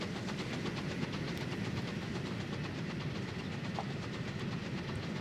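A rocket-type steam locomotive running in Transport Fever 2, a continuous loud rumble of rolling wheels with a steady rapid rhythmic chuffing and clatter, heard alone without talk.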